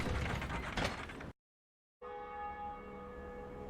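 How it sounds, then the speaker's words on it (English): A switch lever is thrown in Dark Souls: a grinding mechanical ratchet clatters, cuts to silence, then gives way to a sustained ringing bell tone with lingering resonant overtones. "And we're gonna throw the switch!"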